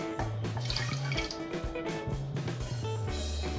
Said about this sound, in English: now I'm just going to fill this with water